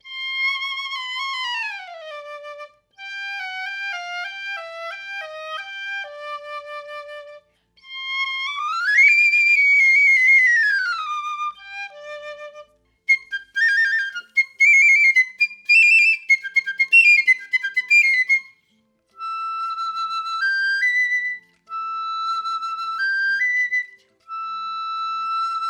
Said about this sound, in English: My new piccolo just has such a beautiful sound.